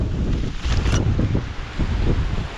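Strong monsoon storm wind sweeps across Konkan rice fields in heavy rain, rumbling and buffeting the microphone in loud, uneven gusts with no talk.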